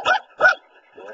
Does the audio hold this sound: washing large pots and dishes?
no